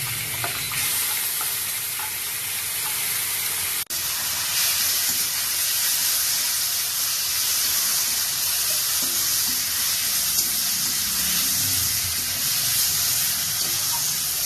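Ground ginger-garlic paste hits a hot pan for a home-style chicken curry, producing a loud, continuous sizzle and hiss that holds steady throughout with faint stirring.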